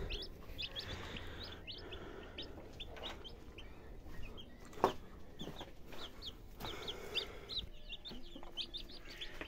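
A broody hen clucks in low, repeated bursts while chicks peep and chirp around her, with one sharper louder call near the middle, all fairly close and continuous.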